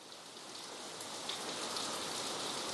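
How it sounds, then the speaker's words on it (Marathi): Steady heavy night rain hisses down in a dense, even wash over Andheri, Mumbai, a constant downpour drumming on surfaces with no voices present. "अंधेरीमध्ये रात्री मुसळधार पावसानं हजेरी लावली आहे"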